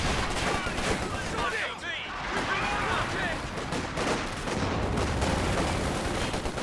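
Dense rattling gunfire from a Company of Heroes battle, sustained bursts that fit machine gun fire blending with explosions and other weapons across the whole stretch, loud and continuous, with a voice talking over it.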